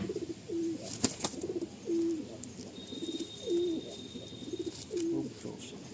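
Madrasi pigeons held in the hand give repeated soft, low coos in short phrases, about five across the stretch, over faint background noise with no talk.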